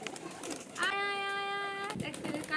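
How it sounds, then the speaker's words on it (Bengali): Pigeons on a rooftop pigeon farm crowd around a person, cooing softly and fluttering nearby, while a long, steady, tonal human call rises in the middle and people talk around it. "অনেক পায়রা আমার গায়ে চলে এসেছে দেখুন"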